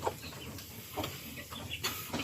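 Chickens clucking in a backyard flock, several short close clucks and calls spaced over a soft outdoor background.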